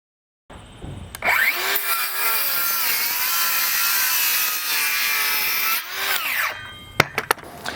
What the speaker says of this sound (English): using the 20-volt max battery in the same saw. It is not even close.